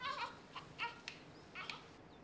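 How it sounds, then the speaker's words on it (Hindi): A baby cries in a Pakistani TV drama scene, heard as faint, short wailing bursts repeating at a distance behind a quiet background. "ये किसके रोने की आवाज आ रही है?"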